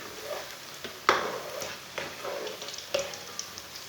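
Pakoras frying in oil in a pan, a steady soft sizzle with occasional sharper crackles and stirring clinks, fairly quiet and close, no talk.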